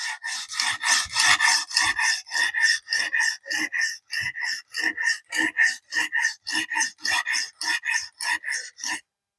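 A camp knife is drawn across a sharpening stone in a steady train of short rasping strokes, about two per second, close and clear with no talking.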